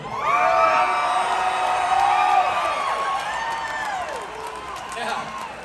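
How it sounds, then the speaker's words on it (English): A concert crowd at a show in Chicago cheers, whoops and claps, loud and close, with high shouted voices rising and falling over steady applause. "Well, there's some cheap applause."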